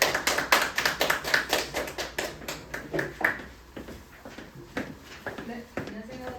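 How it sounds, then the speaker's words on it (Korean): An audience claps in quick bursts to welcome a teacher at a high school exam-strategy information session, brisk and close at first, then thinning into scattered taps and shuffles. "박수로 맞이해 주시죠."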